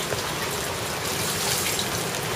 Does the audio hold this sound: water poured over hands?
yes